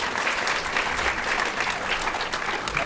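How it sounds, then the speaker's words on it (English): Applause from an audience at a preview and Q&A event, a continuous wash of clapping that holds steady throughout. "it's getting a round of applause from the back from somebody"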